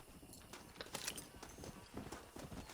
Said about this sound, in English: Oh, it's just a regular wild horse.